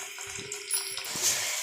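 Cut potatoes are tipped into hot oil in a pan for Kashmiri dum aloo, setting off a bright, steady hiss and sizzle with a few soft bumps underneath.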